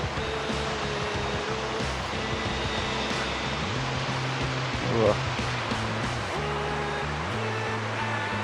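At an outdoor trout farm, water pours steadily from a pipe in a constant rushing wash. A nearby engine hums under it, and someone speaks briefly over the flow.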